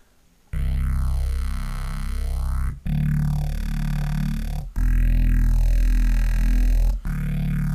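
A neuro bass synth runs through a low-pass filter and light tube distortion, giving a loud, sustained, growling bass tone in four long notes whose filter sweeps up and down, with brief gaps between them.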